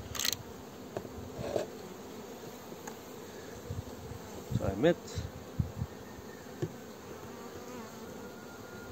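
Honey bees buzz in a steady, dense hum during a spring hive inspection, close by and continuous, with someone speaking briefly over the swarm.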